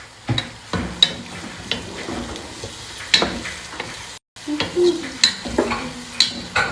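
Onion frying in hot olive oil in a pot, a continuous sizzle broken by repeated scraping and clinking stirs close by, with a brief dropout midway and little or no talk.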